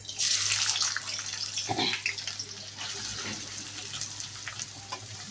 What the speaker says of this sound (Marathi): मस्तपैकी तेल आपलं तापलेलं आहे कांदा घाला याच्यामध्ये